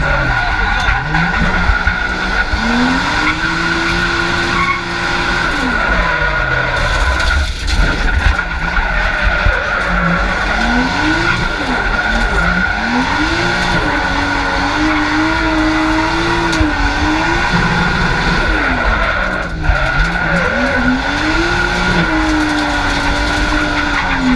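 Race car on a track during a first lap on low-grip tires with short second-gear ratio, engine note rising and falling through gear changes and corners, loud and close from onboard, with a voice speaking over it.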